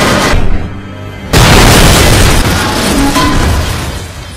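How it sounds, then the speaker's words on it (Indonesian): A loud crash bursts into a sustained roaring boom that slowly fades, dense and close, a car crashing and exploding in an action film. "Lalu tiba-tiba Gina datang dan segera menabrakkan mobilnya, hingga Cole yang berada di dalam mobil beserta anak buahnya jatuh dan meledak"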